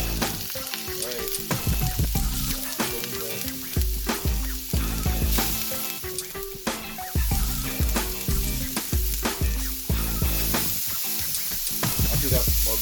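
Half a pound of ground beef frying with a carrot, onion and celery mixture in a pan for a mushroom meat sauce, a steady loud sizzle broken by repeated scraping and stirring knocks throughout.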